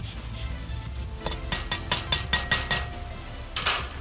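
A fresh lemon is grated for zest, a run of about eight quick rasping strokes close by, with a final longer scrape after a short pause.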